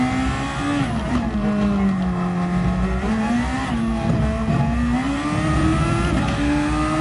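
A DGT Thor race car engine drones loud and close in a racing video game, its pitch rising and dipping as the throttle is worked, with a continuous revving tone and no voices.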